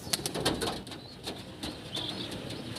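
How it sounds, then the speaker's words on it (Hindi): A pilka tournament-flying pigeon flaps its wings in a few quick bursts at close range, with a faint coo-like call and light background noise. "ये एक पिलका कबूतर है"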